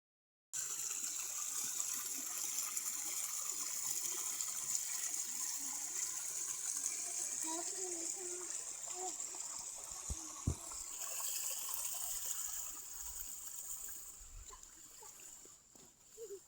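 Clear water flows steadily at a farm, a continuous gushing rush at an even loudness that holds for the whole stretch, with one brief thump partway through.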